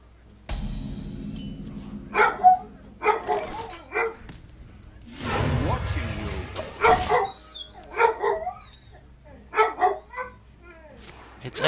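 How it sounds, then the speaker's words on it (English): A dog barks repeatedly in short sharp bursts and yips, some close together, during a home recording session, with a person's voice mixed in between. "But the second I turn on this recording, she's gotta bark."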